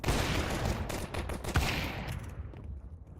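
Dense pistol gunfire from a competitive tactical shooter match, a rapid barrage of overlapping shots from several weapons at close range, then a quieter tail as the exchange dies down.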